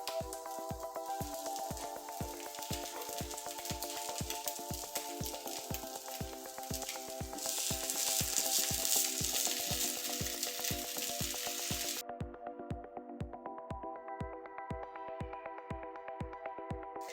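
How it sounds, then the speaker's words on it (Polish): Steady crackling sizzle of an omelette frying in a pan, continuous and close, with no voices. "Smażę go około 2 minut, aż jajko będzie dobrze ścięte po brzegach."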